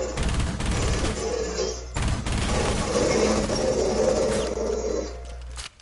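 Gunfire in the Rainbow Six Siege video game: a burst of close, loud shots, then a pause and a second sustained volley of rapid fire.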